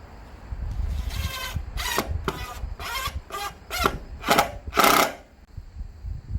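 Power drill boring holes in salvaged building materials from a demolished church, reused to build a rooftop shelf for succulents; about eight short, loud whirring bursts in quick succession, with no talk.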